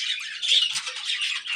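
Pet birds kept at home squawk in a run of raspy, harsh calls close by, one continuous burst lasting under two seconds with no talking.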